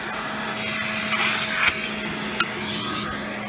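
A Rainbow D3c canister vacuum cleaner runs with a steady whirring hum, close and continuous, with a few faint scraping sounds of the tool against a surface.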